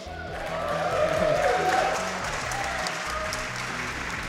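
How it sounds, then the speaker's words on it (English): Steady applause from a speedrunning marathon audience before a Super Meat Boy race, moderately loud and sustained, with faint tonal game or stage sounds underneath. "Clapping for myself."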